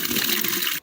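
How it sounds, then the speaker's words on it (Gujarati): Water splashes and gurgles as it is poured into the earthing pit of an electric fence on a farm, a brief, close rush of liquid that cuts off abruptly. "ઝાટકાના અર્થિંગમાં પાણી નાખવાનું હે"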